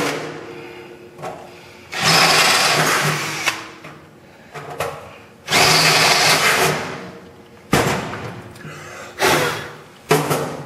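A power drill with a drill bit runs in several loud bursts of a few seconds each, bores into material on a 1937 Plymouth convertible, and pauses briefly between runs.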